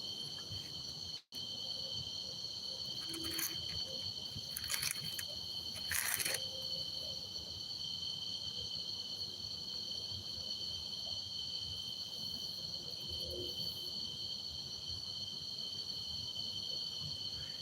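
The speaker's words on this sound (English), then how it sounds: "Yeah, the sounds of the bugs are fine" Insects chirp in a steady, dense drone through an outdoor night at a fishing spot, with a few brief louder clicks and rustles along the way.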